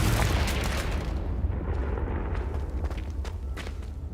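A Confringo fire spell detonates in Hogwarts Legacy: a loud, sustained, rumbling blast with deep low-end roar and crackling bursts that keep going for several seconds.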